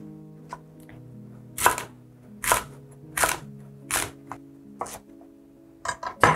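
A knife slicing stiff romaine lettuce thinly for a Mexican chopped salad, a series of crisp, close cuts landing on a cutting board in an uneven rhythm, each a sharp crunch against a steady background hum.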